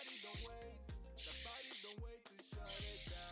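Misty edge booster spray on hair, a series of close, steady hissing bursts with short gaps between them, alone and with no voices.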